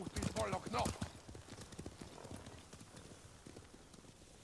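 Horse hooves clip-clop in the samurai video game Ghost of Tsushima, a rapid rhythmic patter that is loudest early on and then settles into a steady, softer trot, with a voice speaking over the start.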